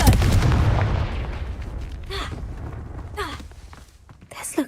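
A Confringo fire spell is cast in the Hogwarts Legacy video game, giving a loud explosive blast at the start that fades out, with a few sharper whooshing hits following later.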